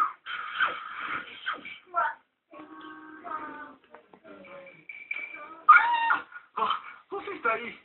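Cartoon cat meowing and yowling in several short bursts, alternating with characters talking and small shuffling sounds, fairly close and clear.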